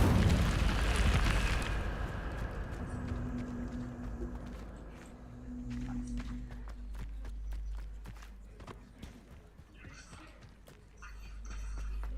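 The Incendio fire spell in Hogwarts Legacy goes off as a loud, roaring whoosh of flame for about two seconds, then fades into low rumbling, scattered footsteps and light game effects.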